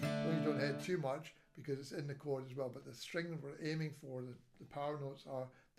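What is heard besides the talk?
No everyday noise stands out behind the speech.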